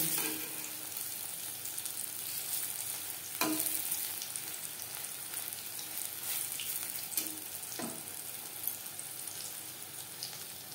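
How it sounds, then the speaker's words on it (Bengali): Cabbage and onion pakoras deep-frying in hot oil, a steady fizzing bubble with occasional soft clinks and stirs, fairly quiet and with no talking. "প্রত্যেক ব্যাচের পাকোড়া একইভাবে ভেজে নেব।"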